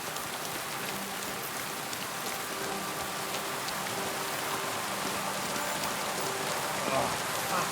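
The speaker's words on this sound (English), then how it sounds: "Oh, fucking rain." Steady rain falls in the video game Kingdom Come Deliverance 2, a continuous soft hiss of drops on surfaces that holds evenly for several seconds, with faint low tones in the background.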